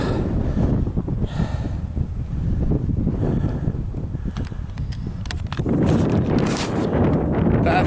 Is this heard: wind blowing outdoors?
yes